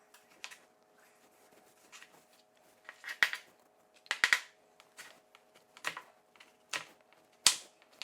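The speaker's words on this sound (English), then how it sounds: "Then we got a little bit of tomato here that we're gonna get cut up." Knife cutting up tomato on a cutting board in a home kitchen during meal prep, heard as quiet, irregular sharp taps and thuds spaced out with brief pauses between cuts.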